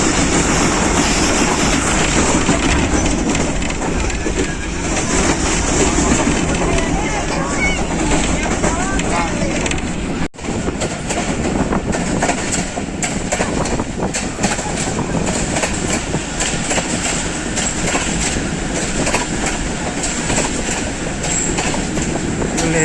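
Jaffar Express passenger train running at speed on the line near Gujar Khan, a steady loud rumble of wheels on rails throughout, with a voice talking over the noise.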